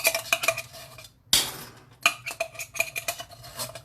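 Metal spoon scraping a thick pumpkin soup mixture with peanut butter out of a pan, a run of close, clattering scrapes and clinks with a brief pause, then more rhythmic scraping.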